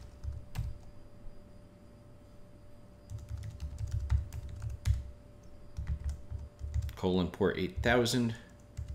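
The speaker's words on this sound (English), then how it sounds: "So typing in the address here in single quotes." Keys clatter on a computer keyboard in short bursts while an external server address is entered for an ownCloud install on unRAID 6, with a voice speaking briefly near the end.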